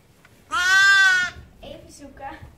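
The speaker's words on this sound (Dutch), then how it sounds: "Hier staan allemaal schapen." A sheep bleats loudly and nearby in a barn, one long wavering call, followed by quieter bleats from other sheep in the pen.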